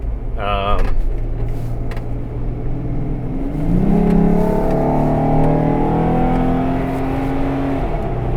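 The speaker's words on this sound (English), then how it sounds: "You could probably hear the revs in the engine there" A Jeep Wrangler JK engine rises in pitch as it revs under acceleration, a steady close drone climbing through the clip with a voice speaking over it at the start.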